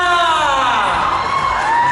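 An audience at a TikTok Shop 11.11 sale event claps and cheers, with loud, continuous crowd noise and raised whooping voices throughout.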